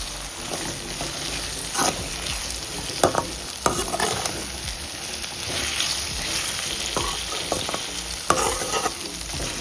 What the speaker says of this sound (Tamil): இப்போ நாம் நறுக்கி வச்ச தக்காளியை சேர்த்துடலாம். சேர்த்துட்டு இதை நல்லா வதங்கட்டும்.